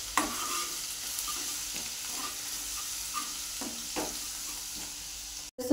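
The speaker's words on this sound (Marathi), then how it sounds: "लसूण 1 मिनिटभर परतून घ्यायचा" Crushed garlic sautéing in a pan for bhadang, a steady soft sizzle with occasional scraping stirs throughout, alone with no voices.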